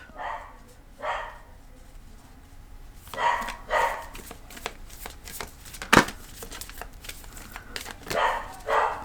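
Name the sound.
dog barking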